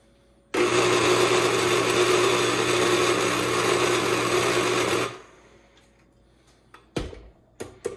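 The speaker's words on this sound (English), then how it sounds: "Now you're gonna beat all this together." Electric mixer beating cookie dough, a steady loud whir that starts abruptly, runs about four and a half seconds, then cuts off, followed by a few brief clatters and knocks.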